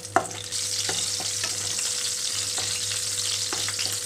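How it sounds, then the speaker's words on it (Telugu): Green chillies and ginger frying in oil in a pan with a constant hiss of sizzle, a sharp knock at the start and several scrapes of a spatula stirring, close and clear with a faint steady hum beneath. "పచ్చిమిరపకాయలు మనకి దోరగా వేగిపోవాలి"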